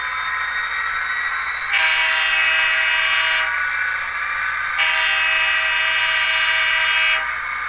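Horn of a Rapido N scale F40PH model locomotive sounds in two long, steady multi-tone blasts, each a couple of seconds, over a constant electronic hum, with no talking.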